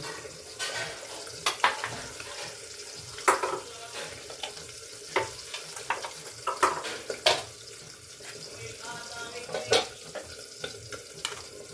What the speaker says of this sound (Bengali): 2 কেজি কাতলা মাছ, এই যে মাছ ভাজা করছি।